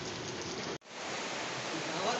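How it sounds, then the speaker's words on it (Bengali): Rain falls in a steady broadband hiss, cut by a brief break before the even downpour resumes. "এই দেখো আজকে বৃষ্টি হচ্ছে"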